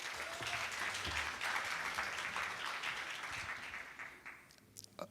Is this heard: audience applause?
yes